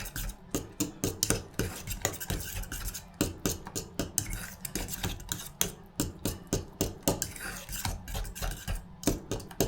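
Homemade mushroom purée being stirred with a utensil in a pot or bowl, a steady run of close, rhythmic scraping and tapping strokes, fairly soft and without any talking.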